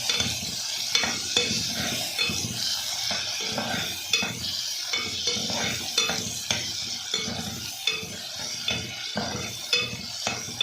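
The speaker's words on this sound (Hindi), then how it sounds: "इसको उस वक्त तक थोड़ा सा पकाना है कि टमाटर अच्छी तरह नरम हो जाए" Tomatoes cook down in a hot pan for a fenugreek potato dish, with a steady sizzle broken by repeated scraping strokes of a spoon against the pan in a loose, regular rhythm, close and clear.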